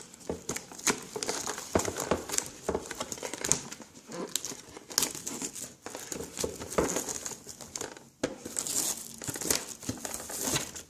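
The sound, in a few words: opening Pokémon Yveltal collection box packaging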